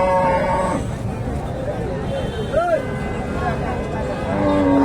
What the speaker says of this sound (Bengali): সুন্দর একটা গাভী বাচ্চা